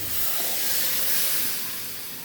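Water poured into a hot pan of browned prawns with cabbage and bottle gourd sets off a loud, steady broadband sizzle and hiss that swells slightly, then eases, with no voices over it.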